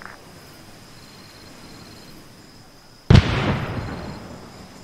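A single heavy high-explosive artillery shell impact in the Arma 3 military game, set in a Vietnam scenario, lands about three seconds in as a sudden loud boom followed by a long rumbling decay over faint ambient insects.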